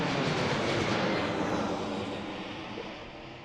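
A jet airliner taking off at Washington Reagan National Airport roars past loudly, a broad engine rumble that slowly fades as it climbs away.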